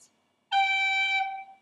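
Bagpipe chanter note sounded with a G cut ornament, a tiny grace flick at the onset followed by a bright, steady sustained tone lasting about a second, close and alone.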